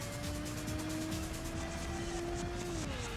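A race car in the Ridge Racer video game on the Sony PlayStation holds a steady, continuous engine drone whose pitch sits level and then drops near the end, with no voices.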